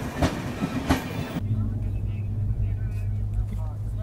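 The Gaya–New Delhi Amrit Bharat Express rushes past nearby with a loud rumbling roar and rattling wheels, a sharp whoosh at the start and steady clatter continuing after.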